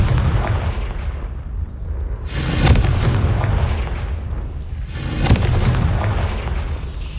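Two heavy blasting-curse explosions go off in Hogwarts Legacy, one at about two seconds and one at about five. Each is a broad, booming burst that fades into a rumbling tail, with a low ambient rumble underneath.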